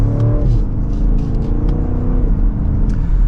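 A 2024 BMW Alpina XB7 pulls hard in sport mode, second gear, its engine note climbing steadily and loudly before a shift drops the pitch, with a deep exhaust rumble underneath.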